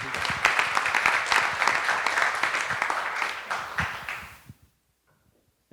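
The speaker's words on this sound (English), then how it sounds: "let's give a round of applause for Adrian." An audience at an entrepreneurship event applauds for about four and a half seconds, a dense, steady clapping that fades quickly into near silence.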